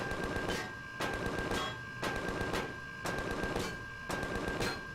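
Minigun turrets firing in the space game Empyrion, repeated bursts of rapid shots about once a second in a steady rhythm, moderately loud, with a constant high tone beneath.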